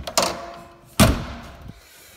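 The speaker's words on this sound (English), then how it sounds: "Oh, shut the door properly." A Land Rover Defender 110 TD5 door thuds shut twice, a lighter knock followed about a second later by a heavier solid slam with a short metallic ring, close by, with a faint bump after.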